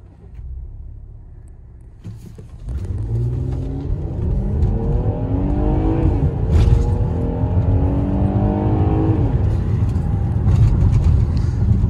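A 2015 Jeep Cherokee Limited in sport mode pulls away from a stop, its engine rising from a low idle to a loud, steadily climbing rev with quick shifts, close and continuous, with no talking.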